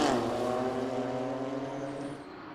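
BMW M2 CS race cars battle closely around the Red Bull Ring, a loud sustained engine drone with steady harmonic whine that fades slightly as the cars pass.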